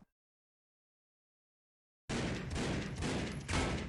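Rapid gunfire from a video game shooter erupts after two seconds of silence, a loud, dense burst of shots that continues to the end, with a brief swell of heavier fire near the close.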